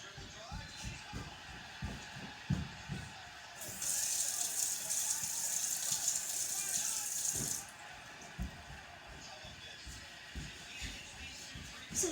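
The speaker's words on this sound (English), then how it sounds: "1 sec, I need to go wash my hands." Water runs from a tap for a few seconds while hands are washed under it. Scattered clunks and handling noises come before and after.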